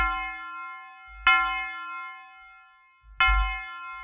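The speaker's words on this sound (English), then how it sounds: "last thing I'm gonna add to it is a little tubular bell" A tubular bell struck twice, each note ringing bright and sustained with rich overtones, decaying slowly with a soft low thump under each strike.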